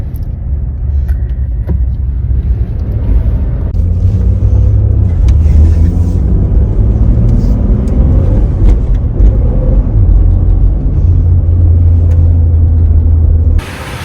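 A car driving on an Australian road with steady loud engine rumble and tyre noise heard from inside the cabin, continuous throughout before dropping off abruptly at the end.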